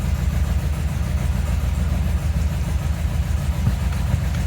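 An MGB sports car engine running at idle close by, a steady, even low rumble with no break throughout.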